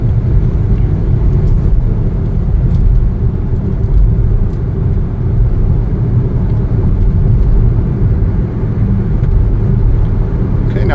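A 2024 Chevrolet Trax 2RS on the road, giving a steady, loud low engine and road rumble with tyre noise that holds evenly throughout, no voices.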